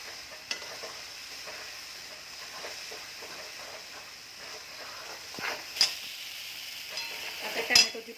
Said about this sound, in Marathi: वाटण चांगलं परतून घ्यायचं आहे